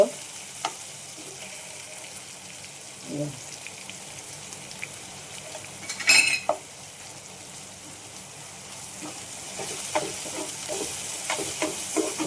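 Tomatoes sizzle steadily in a pan as asafoetida goes in, for a spiced Konkan-style banana-flower vegetable dish. The sizzle stays low and even, with a louder hissing burst partway through and light stirring clicks.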